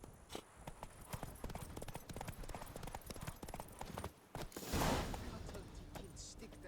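Horse hooves clip-clop in a quick, regular trot in The Witcher 3 video game, a close, even beat that breaks off briefly before a louder rushing burst, with voices talking over parts of it.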